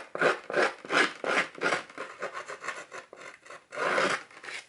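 A scissors blade scrapes across card paper in steady, rhythmic rasping strokes, about eight passes, close and fairly loud, ending with one longer drag.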